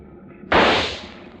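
A single sharp rifle shot at sea aimed at a shark, a sudden loud crack that decays over about half a second after a quiet start.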